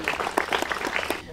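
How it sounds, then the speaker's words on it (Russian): A short burst of applause at an outdoor ceremony, individual claps distinct and fairly close, rising and falling quickly before tailing off. "Аплодисменты, Юрий Николаевич"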